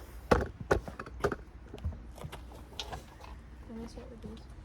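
Ratchet work loosening and pulling the throttle body bolts on a BMW M20 engine in an E30 convertible, a few close metallic clicks and clunks early on, then quieter handling with people talking nearby.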